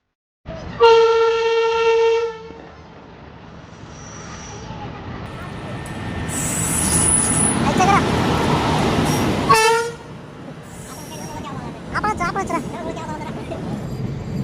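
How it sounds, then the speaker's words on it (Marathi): A train horn blares loudly at the start, then the heavy rumble of an arriving train builds and rolls past, with people talking faintly in the background. "मित्रांनो, फायनली आपली ट्रेन आलेली आहे."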